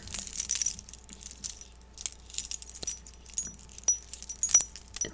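Gemstone wind chimes jingle and tinkle close up in bright, scattered clusters of small glassy clinks, soft and irregular, with brief pauses between flurries and no voices.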